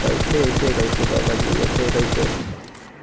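Rapid automatic gunfire from the PUBG battle royale game, a dense sustained burst of shots for over two seconds before cutting off abruptly, with faint voices underneath.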